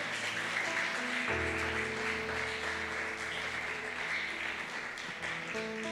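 A church congregation applauds as an offering of praise, steady clapping under sustained organ or keyboard chords that shift partway through.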